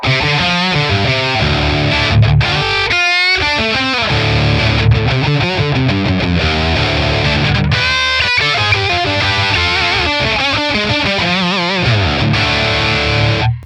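A high-gain electric guitar runs through a ToneX ONE Marshall amp capture, playing loud, heavily distorted riffs and sustained chords without pause and with no voices.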